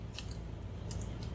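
A plastic baggie of wooden board game blocks for a GMT war game being pulled and crinkled open, with a few sharp bursts of rustling over a steady low hum and no talking.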